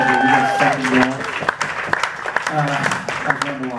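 Audience applause at a live jazz club concert at NuBlu, a steady wash of clapping with musical tones and voices mixed in over a short stretch.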